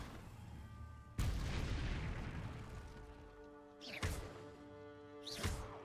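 The Incendio fire spell from Hogwarts Legacy bursts out with a loud whooshing blast of flame, followed by two more sharp fiery bursts, each rising and sweeping away under a steady game music bed.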